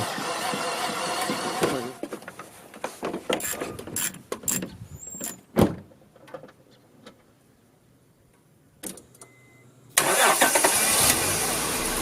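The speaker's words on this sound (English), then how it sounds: "Now it was time to put this little boost box up to the ultimate test, to see if it could start my V6 Honda Pilot" A V6 Honda Pilot is started from a DIY hand-cranked supercapacitor boost box. Clicks and mechanical clatter come first, then the engine cranks and catches, settling into a loud steady idle near the end.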